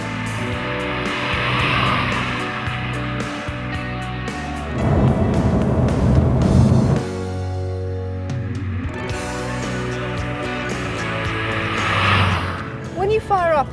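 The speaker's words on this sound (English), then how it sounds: "the eager sound of that 3-pot engine is endearing" The small Nissan Pixo's three-cylinder engine drones and revs while driving, with a steady rumble and shifting pitch under continuous talking.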